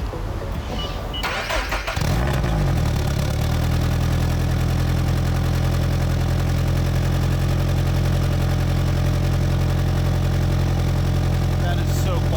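A car with an aftermarket switchable exhaust set to quiet mode cranks and starts, then settles into a steady, low, even idle heard up close, with no talking.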